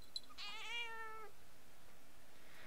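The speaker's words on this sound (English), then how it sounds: "Oh no, I'm sorry, my cat." A cat meows once, a clear drawn-out call rising then falling, fairly close against a quiet background, followed by near silence.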